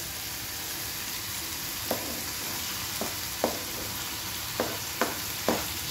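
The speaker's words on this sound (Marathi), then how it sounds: "हे सगळं एकत्र व्यवस्थित परतून घेऊया।" Tomatoes stir-fried with dried shrimp (karandi) in a pan, a steady dense sizzle running throughout, broken by several sharp scraping knocks of a spatula against the pan at uneven intervals.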